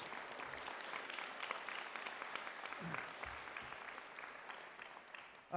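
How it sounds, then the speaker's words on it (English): Graduation ceremony audience at Charles Darwin University's Faculty of Health applauding, a broad, sustained wash of many hands clapping from a large hall, heard fairly distant and even. "So please give Fatima a big round of applause again"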